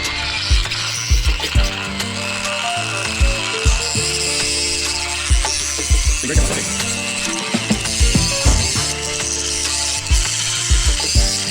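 Metal tool work punching through a 2003 KTM 250sx crankcase, with repeated sharp, loud clicking and ratcheting strikes in an irregular rhythm over a continuous mechanical grind, close by.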